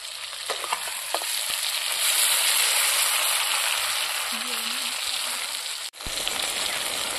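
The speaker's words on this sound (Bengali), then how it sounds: "যখন মাংসটা আমি কড়া কড়া করে ভেজে নিচ্ছি" Mutton pieces fry crisp in a pan over an outdoor village cooking fire in the forest, giving a loud steady sizzle with a few stirring scrapes and clinks near the start.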